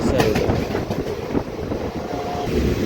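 Train rolling through hilly Odisha country between Rayagada and Koraput, heard from inside a general coach as a steady loud rumble with rattling clatter of the carriages and wind, continuous throughout.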